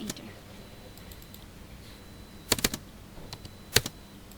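Computer keyboard keys tapped while entering dimensions into AutoCAD for a floor plan: a few sparse clicks early, then two quick bursts of sharp, close keystrokes over a quiet room hiss.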